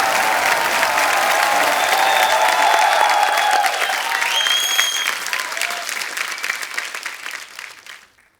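Loud, sustained studio audience applause on an Indian TV comedy talk show, with a few voices and musical tones over it before the clapping fades out.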